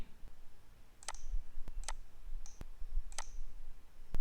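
A computer mouse gives a handful of sharp, close clicks, irregularly spaced over a few seconds against a faint background hum.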